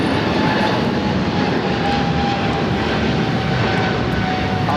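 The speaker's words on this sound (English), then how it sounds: "This is Japan Airlines Flight 15 taking off to Tokyo, Haneda on the 777" Japan Airlines Boeing 777 jet taking off at LAX, a steady loud broadband engine roar that holds evenly throughout, with no voices over it.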